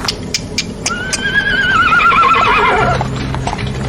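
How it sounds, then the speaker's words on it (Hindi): Horses pulling a coach, with a loud whinny rising over a quick run of hoof clip-clops. Steady rumbling movement runs underneath, close and prominent. "और चुपचाप कोच पर सवार हुआ और घोड़े चल पड़े"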